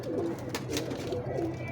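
A female pigeon paired with a male in a breeding loft coos in repeated low, rolling phrases, close and clear, with a couple of soft clicks between calls.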